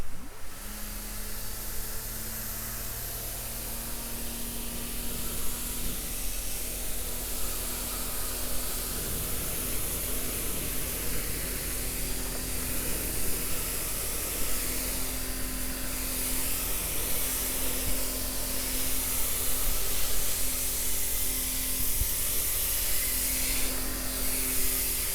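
A battery-powered PRYMAX electric pressure washer sprays dirty aluminum siding, making a steady, close hiss of water with a faint motor hum underneath, running continuously with no talking.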